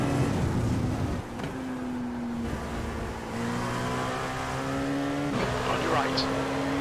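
In iRacing, a Dallara P217 prototype laps Laguna Seca, its engine note climbing through the gears in steady rising pitches, with shifts and a brief squeal of the tires.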